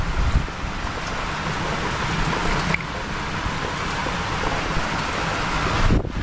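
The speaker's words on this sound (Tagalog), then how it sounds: "Talagang hindi na tumila yung ulan, hindi na tumila." Steady rain pours down on a hut in the countryside, a dense, even hiss that holds through the whole stretch with no voices over it, ending in a brief louder rustle.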